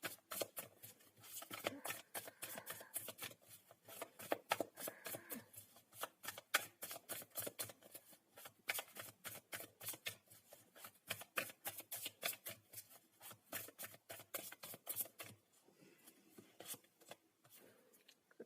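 Tarot cards being shuffled in a long, steady run of crisp riffling and flicking, close and fairly quiet, with dense rapid card snaps and no voices.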